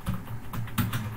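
Fast, steady keystrokes on a computer keyboard while HTML text is entered, a close run of light clicks in quick irregular bursts with no talking.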